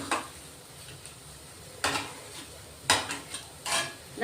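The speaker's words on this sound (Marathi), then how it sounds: "मसाले चांगले मिक्स झाले पाहिजेत चांगले परतून घ्यायचे" A spiced green pea filling sautéed in a pan for karanji, quiet sizzling under a few scattered scrapes and knocks of a spoon against the pan.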